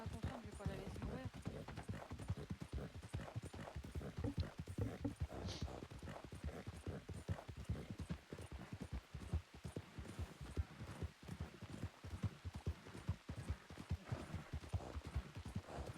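Horse hooves clip-clop steadily and continuously in a western video game, an even rhythmic trot that carries faintly throughout with little else over it.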